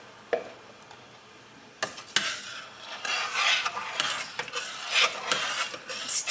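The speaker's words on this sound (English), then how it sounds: "take the 2 cups of rice and we're just going to add that to it" Two cups of rice poured into melted piloncillo in a pot: a quiet start, then a rushing, gritty patter of grains hitting the syrup and pot in uneven bursts, with clinks of a utensil against the rim.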